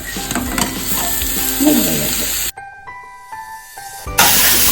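Cluster beans (gorikayi) dropped into a pan with onions, green chilli paste and a little turmeric, a loud close sizzle and crackle with stirring scrapes, briefly dropping quiet before a fresh burst of hissing.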